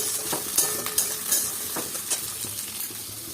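Vegetables fry in a pan over a raised high flame for fried rice, giving a steady close sizzle with scraping stirs and a few sharp utensil clinks.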